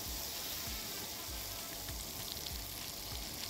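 Sugar and butter sizzle steadily while caramelizing in a pan, a continuous close frying hiss with occasional soft stirring knocks and no talking.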